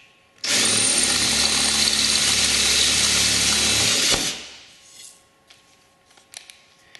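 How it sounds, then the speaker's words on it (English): A power drill whines loudly and steadily for about four seconds as it bores a 1/4 inch hole, then stops, followed by faint clicks and handling noises. "now I'm going to final drill it to the 1/4 inch size"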